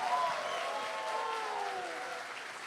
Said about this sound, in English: A little bit of applause, please.